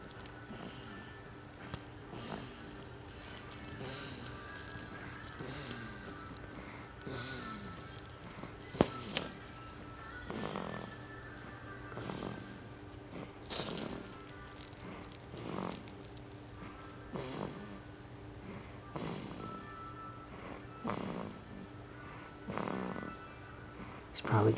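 A six-week-old baby snores while asleep: soft, faint breathy snores repeat every two to three seconds over a quiet, steady background, with no talking.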